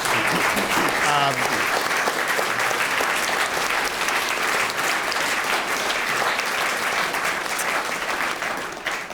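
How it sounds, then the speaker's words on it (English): A live audience gives a sustained round of applause for the crew of a Climate One public program, a loud, dense wash of clapping that holds steady and tapers slightly at the end. "I'd like to invite you to give the round of applause for the Climate One crew"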